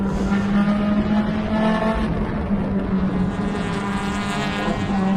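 Mazda MX-5 Cup race car engine heard from onboard during a race, a loud sustained droning buzz with steady revs and no voices.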